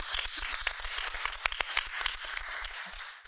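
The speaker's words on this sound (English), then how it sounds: "Let's give a round of applause for Fred" An audience at a live event in Fort Lauderdale applauds for Fred, a dense, steady patter of many hands clapping at moderate volume for a few seconds.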